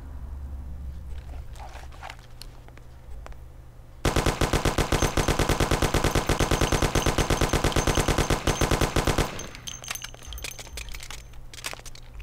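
Automatic gunfire in the video game Mafia empties a full magazine in one long, loud, rapid unbroken burst of evenly spaced shots, beginning abruptly and cutting off a few seconds later, with quieter game ambience before and after.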